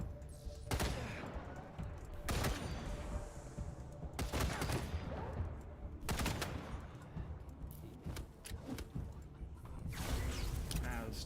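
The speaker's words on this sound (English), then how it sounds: "Those stupid shrink grenades." Shrink grenades going off in the video game Wasteland 3, a dense run of loud blasts and crackling bursts with broadband booms about every second or two over continuous game noise.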